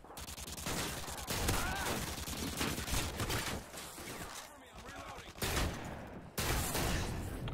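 Shotgun blasts from the video game Modern Warfare 2 come as rapid, loud bursts that follow one another in quick succession, with brief pauses between them and the player's voice talking over the gunfire.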